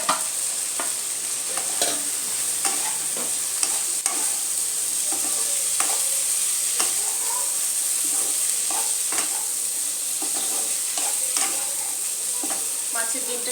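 Fish roe frying with okra and mixed vegetables in a pan, a constant bright sizzle with repeated scraping and stirring knocks of a spatula throughout.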